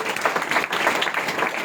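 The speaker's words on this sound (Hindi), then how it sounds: "जोरों से ताली बजाकर।" A church audience at a Christmas program claps loudly to welcome a speaker onto the stage, a brief dense burst of hand clapping with no talk over it.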